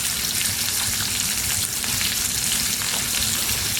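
Steak and onions sizzle steadily in a hot pan, a dense continuous frying crackle with faint intermittent pops, close and loud throughout with no talk.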